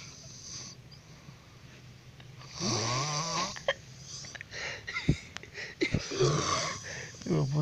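Snoring rises and falls in rough, wheezing drawn-out breaths with snorting rattles, close and fairly loud, while someone speaks over it at times.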